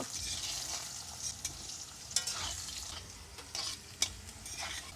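Potatoes with a little salt sizzle steadily in a hot pan while a spoon stirs them now and then, giving soft scraping clicks over a constant close frying hiss, no voices.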